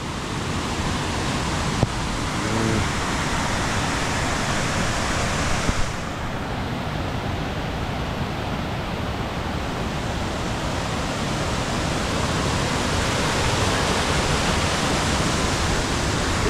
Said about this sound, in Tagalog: Wow, ini pala ang falls.